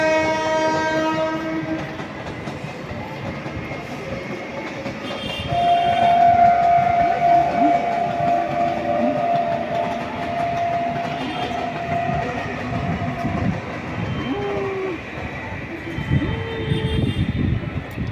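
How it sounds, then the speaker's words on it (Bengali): A train rolls past at close range with a steady, heavy rumble of wheels and rail clatter, its horn sounding in sustained tones near the start and again midway as the cars keep rolling through. "ট্রেনটা চলে গেল"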